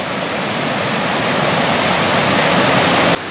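A rugged, rocky river rushes past at close range, a loud, steady broadband roar with no pauses, dropping slightly in level near the end.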